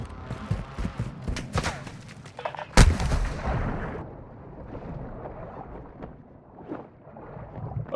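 Gunfire in Call of Duty Warzone, with one sharp loud blast standing out among scattered shots and rumbling wind-like background noise.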